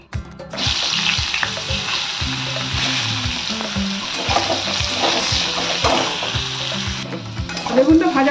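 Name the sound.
eggplant frying in oil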